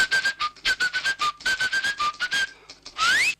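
A person whistles a fast, choppy run of short piercing notes, then a brief pause and a final rising slide, loud and close with nothing else behind it.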